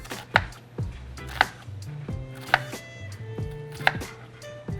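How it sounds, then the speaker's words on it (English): A knife dices vegetables on a cutting board for a bouillabaisse, with four crisp, evenly spaced chops standing out clearly against a quiet kitchen background. "Same concept, just cutting up the middle, and then when we cut across, you get those small dices."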